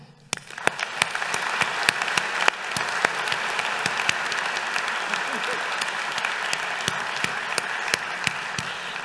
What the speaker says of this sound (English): let's just give our joy in clapping for all of them